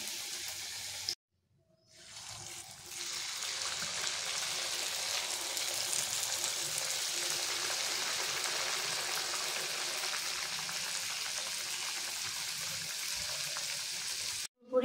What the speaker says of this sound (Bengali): পুরি ভাজা হয়ে গেছে